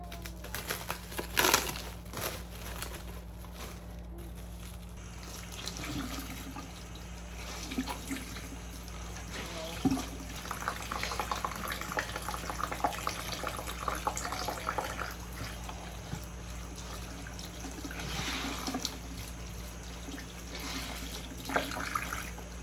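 Running water rinses freshly unwrapped tie-dyed cotton t-shirts at a sink, with a steady, fairly faint splashing stream, occasional wet crinkles and handling noises over a low hum.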